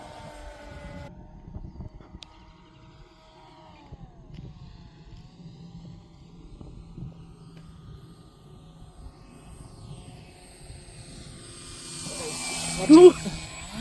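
A small RC airplane's engine drones at a distance while the model comes down in an emergency landing, a steady whine that swells louder and closer near the end.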